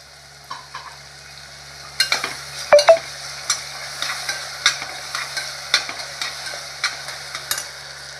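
Tomatoes tipped onto browned onions for Nashik-style misal gravy, frying with a soft continuous sizzle while a spoon scrapes and stirs the pan in irregular clinks and knocks, close and clear without voices.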